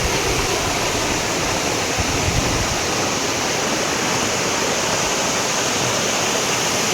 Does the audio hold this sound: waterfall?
yes